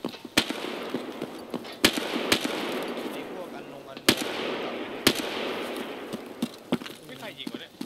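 Gunfire in Escape From Tarkov: sharp, loud single shots crack out at irregular intervals, about five in all, over a busy background with voices talking.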